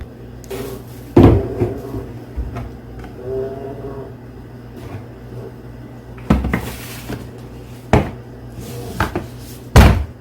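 A cabinet door with a hanging compost bin attached opens and closes several times, giving sharp wooden thumps and knocks spread across the clip, with quieter rustling and handling in between.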